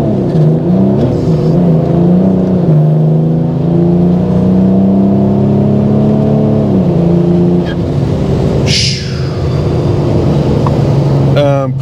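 BMW 335d diesel with a single turbo and wide rear tyres, accelerating hard through gears with rear wheelspin, its engine roaring loud and near, with a short tyre squeal and a voice speaking over it.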